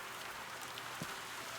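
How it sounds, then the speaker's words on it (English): Rain falls in the rain room of the video game Viewfinder, a soft, even hiss of drops with a couple of faint taps, quiet and unaccompanied by voices. "you need to go to the rain room for a while"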